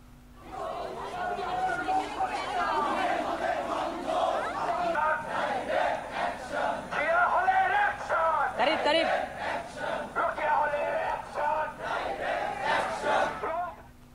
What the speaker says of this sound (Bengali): বিক্ষোভের শিক্ষার্থীরা অধ্যাপকের বিরুদ্ধে বিভিন্ন স্লোগান দেন